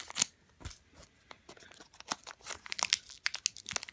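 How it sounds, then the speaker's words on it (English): Scissors cut open the foil wrapper of a Pokemon card booster pack, producing quiet, close snips and crinkling, with scattered sharp crackles and rustles spread unevenly across four seconds and no talking. "Let's cut this open."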